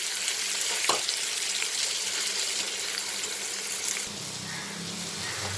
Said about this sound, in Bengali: টমেটো রসুন আদা পেঁয়াজ সব একসাথে ভাজা ভাজা হোক আলুও ভাজা হয়ে যাবে